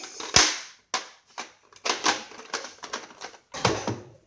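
Nerf toy blaster fired repeatedly at close range, a quick series of sharp plastic snaps and clacks in an uneven rhythm, with one louder shot near the start.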